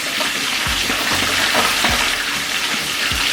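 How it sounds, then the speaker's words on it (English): Vegetables being washed under a running tap, a loud, steady close-up rush of water with faint splashes and knocks, no talking. "Give the veggie a little wash."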